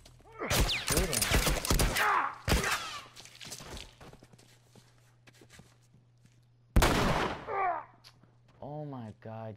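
Gunfire in The Last of Us Remastered multiplayer on PS4, a few sharp, loud bursts of shots clustered early and again later, mixed with footsteps and thuds, with a player talking in between.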